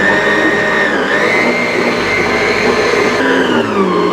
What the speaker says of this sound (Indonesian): Kita matikan mixer ketika kelihatan sudah rata ya